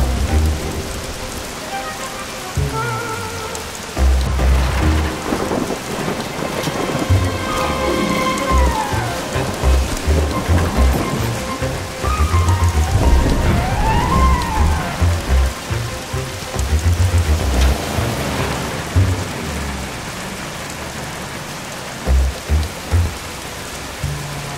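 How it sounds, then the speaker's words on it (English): Heavy rain falls in a cutscene from the Bee Movie Game, a loud continuous downpour with rumbling thunder, mixed with music and sound effects throughout. "Not the rain."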